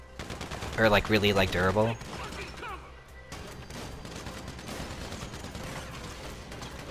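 Bursts of gunfire aimed at wooden pallets in GTA 5, a loud voice talking over the opening, then scattered shots and clatter continuing at moderate level.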